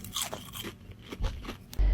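Crispy breaded chicken nuggets bitten into, giving a sharp crackling crunch followed by a few louder crisp bites close to the mic, with no talking.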